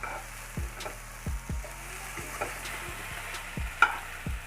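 Sautéed okra being stirred and mixed with masala in a pan, a soft sizzle broken by several distinct scraping strokes of a spoon, no talking.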